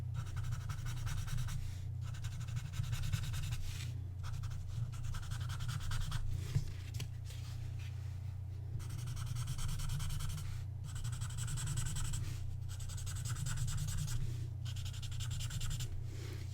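A graphite pencil rubs across paper in repeated blending strokes, a soft close scratching that comes in bursts with short pauses between them over a low background hum.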